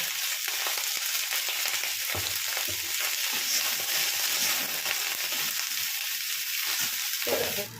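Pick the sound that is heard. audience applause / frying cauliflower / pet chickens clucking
frying cauliflower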